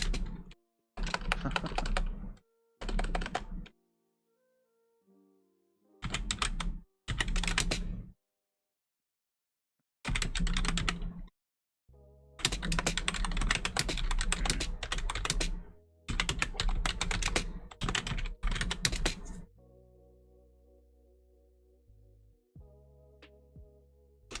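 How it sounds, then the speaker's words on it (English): Bursts of keystrokes on a computer keyboard during a tabletop role-playing session, close and crisp, broken by short silences, with a soft tonal sound in the final few seconds. "Are you typing Gilwin's perception?"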